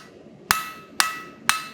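Blacksmith forging metal with a hammer: three evenly spaced sharp strikes about half a second apart, each a bright clanging ring on metal that fades quickly, close and alone.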